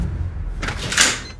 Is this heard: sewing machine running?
no